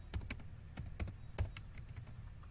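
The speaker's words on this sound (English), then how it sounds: "simply I can type here background color black" Typing on a computer keyboard, a short run of soft, irregular keystrokes and taps, fairly quiet and close with no talking over it.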